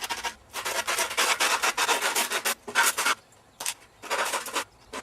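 Something rubbed along the edge of skateboard grip tape to mark an outline, producing close, loud rasping scrapes in irregular strokes with short pauses between them.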